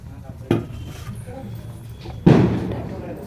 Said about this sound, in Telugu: మనం ఇలా బంగాళదుంపలు ఇలా కట్ చేసుకోవాలి